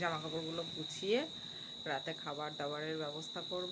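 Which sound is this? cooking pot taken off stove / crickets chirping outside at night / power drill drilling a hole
crickets chirping outside at night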